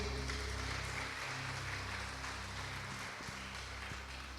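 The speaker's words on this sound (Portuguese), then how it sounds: "Tome o seu assento, aplaudindo a Ele." A church congregation applauds together in a steady, dense wash of clapping that holds at an even level throughout, with a faint low hum of the room beneath it.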